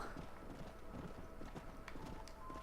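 Faint, rapid hoofbeats patter steadily in the background, like several horses galloping at a distance, in the video game Red Dead Redemption.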